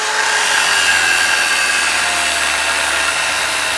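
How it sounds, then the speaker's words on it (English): An old steel pry bar being ground into a knife blade, a steady loud grinding roar that stays even and continuous throughout, close up with no talk. "I'm going to crop it off and I'm going to grind from here"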